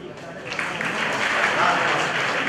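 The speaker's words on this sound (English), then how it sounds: "If you agree, claps." A student audience at an MSME business conclave claps together, a steady patter of applause that builds slightly and holds at moderate loudness for a couple of seconds.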